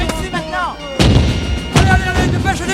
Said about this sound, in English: The cannons roared over my head.